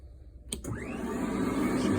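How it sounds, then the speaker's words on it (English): An auto scrubber floor machine with its suction running during a floor strip and wax at a Best Western Premier hotel starts up abruptly and swells into a loud, steady whirring drone that holds to the end. "So we're gonna go ahead and turn the auto scrubber on."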